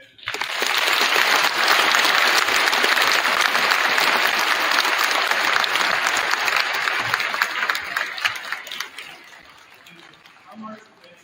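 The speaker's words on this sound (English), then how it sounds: "Can we give one more round of applause for our marching band?" An audience at a Veterans Day school assembly gives sustained applause for the marching band, loud and dense for several seconds before thinning out and fading near the end.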